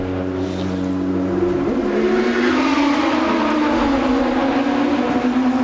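A Porsche race car pulls out of the pit lane at Le Mans, its engine loud and close, the note dropping and then climbing steadily as it accelerates away.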